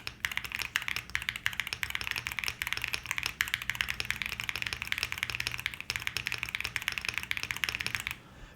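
Typing on a Luminkey 65 pre-built mechanical keyboard, a dense, steady run of soft, foamy keystrokes with no voices, ending abruptly near the close.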